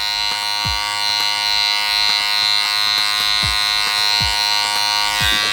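Electric hair clippers hum loudly and steadily close up during a self drop-fade haircut, with regular short flicking strokes against the hair and no talking.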